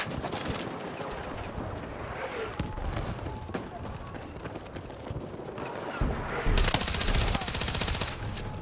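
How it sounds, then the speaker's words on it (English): Rapid full-auto gunfire from a rifle in Battlefield 6, dense bursts of shots running nearly throughout with a louder stretch near the end, set against busy battlefield noise. "I keep accidentally just shooting at full auto just by tapping."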